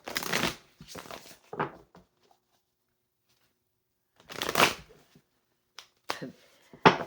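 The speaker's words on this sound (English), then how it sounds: "shuffling the cards" Tarot cards are shuffled in separate short bursts of crisp riffling and slapping, close and fairly loud, split by quiet gaps: a few quick ones early, a louder burst in the middle, and several sharp snaps toward the end.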